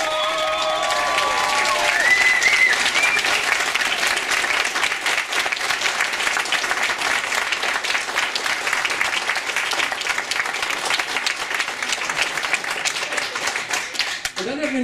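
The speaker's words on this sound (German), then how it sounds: "Ein Applaus für Cornelius Kurz" Sustained applause from a German science-talk audience, dense steady clapping from a large crowd filling the room at even loudness, with a brief tonal sound at the start and some voices mixed into the roar.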